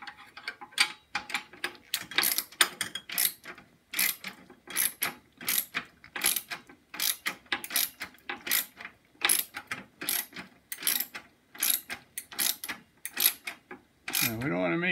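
A ratchet wrench tightens a nut and bolt on a Snapper mower's steering rack, giving close, rapid clicking in steady repeated bursts, each stroke a quick run of pawl ticks, ending with a short different noise.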